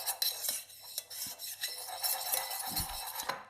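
Oil being stirred into a salad dressing for a hot and sour salad served with soy-glazed salmon, heard as steady scraping and clinking of a utensil against a bowl, close and continuous with no talk.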